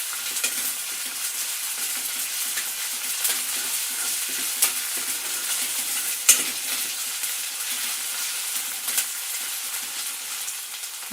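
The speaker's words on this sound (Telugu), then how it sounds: "వేగినాక అల్లం వెల్లుల్లి పేస్ట్ వేస్తున్నాను. ఇవన్నీ కాసేపు వేగనివ్వాలి." Ginger garlic paste sizzles in hot oil while cooking a cabbage curry, a steady close frying hiss with occasional scrapes and clicks of stirring.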